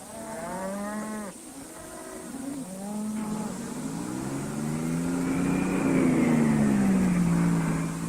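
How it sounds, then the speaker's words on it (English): Cattle moo repeatedly while being shipped by truck to stockyards, several loud, drawn-out bellows close by, the last one long and sweeping, over a steady engine rumble. "The truck delivers the cattle to the stockyards 100 miles away."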